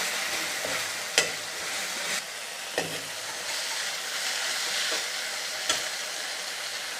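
Tomatoes sizzle and fry in a pan for an Assamese egg masala curry, a steady hiss broken by a few sharp scrapes and clinks of stirring utensils, close and without speech.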